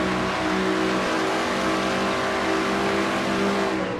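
Race car engine at Pocono in a NASCAR racing video game, a steady, loud onboard drone holding high revs without pause for the whole stretch.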